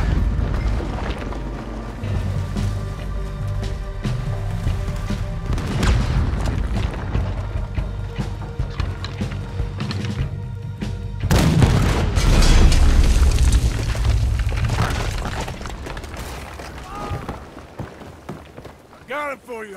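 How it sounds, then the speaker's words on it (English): Cannon fire in Red Dead Redemption 2 during a battle on Guarma, with heavy booms and a loud blast midway under game dialogue and music. "There's another cannon up ahead on our left."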